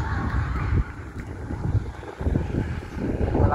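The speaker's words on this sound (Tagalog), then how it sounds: "Malakas naman ang hangin" Strong wind buffets the microphone outdoors at a pigeon loft, a continuous loud rumbling roar that dips briefly twice.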